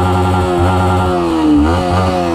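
A Yamaha MT-15 motorcycle engine revs up close and loud, its throbbing exhaust rising in pitch through several short blips before settling back to a steady idle.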